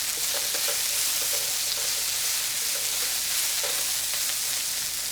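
Thinly julienned vegetables sauté in a pan with oil and a splash of vegetable broth, a dense, steady frying hiss with faint scraping from tossing.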